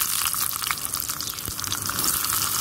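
Onion tipped into hot oil with popped mustard seeds in a tiny miniature toy pot, giving a loud, dense, continuous crackling sizzle close up, with no voices.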